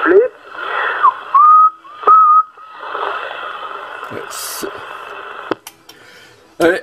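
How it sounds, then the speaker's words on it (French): A voice over CB radio gives way to several short, rising whistles over a steady hiss of static, followed by crackles and another burst of noise. "Puis un petit coup de sifflet."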